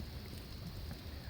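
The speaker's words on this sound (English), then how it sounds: "is raining at the moment" Steady rain falls outdoors on a farm in February, a dense, continuous hiss and patter with low rumbling underneath, no voices, even throughout.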